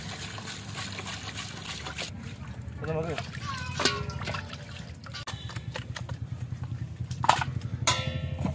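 Water is poured over raw chicken being washed for homemade grill chicken, trickling and splashing in uneven bursts close by while someone talks over it.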